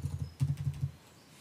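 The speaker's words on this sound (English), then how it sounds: "all you have to do is press either one of the arrow keys" Arrow keys on a computer keyboard are tapped in a quick run of soft, close clicks, about eight presses, then quiet, with no talking.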